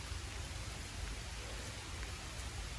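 Steady rain falls outdoors among trees, a soft, even hiss with a low rumble underneath, continuous throughout.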